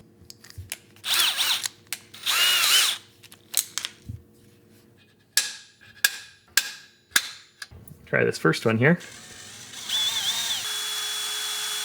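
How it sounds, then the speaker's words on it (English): A power drill whines in several bursts, drilling 5/16-inch holes in thick steel, with sharp clicks and clatter between runs and a brief spoken remark. "Let's go ahead and drill these holes to 5/16 and then we'll tap them."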